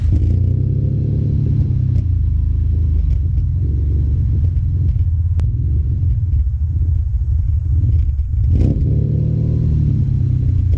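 A car fuelled with E85 starts and runs roughly with a misfire, its low rumbling engine note steady and loud with a couple of surging revs, no voices.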